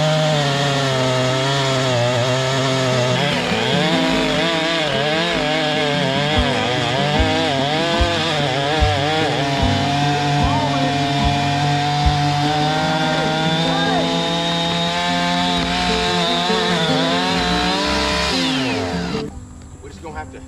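Chainsaw held at high revs while cutting through a log, a loud continuous buzzing whine lasting many seconds with pitch wobbling as the chain bites, then cutting off abruptly near the end.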